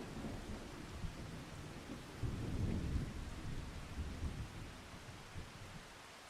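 Steady rain with rolling thunder in the video game Farming Simulator 25, a continuous low rumble that swells in the middle and carries no talk.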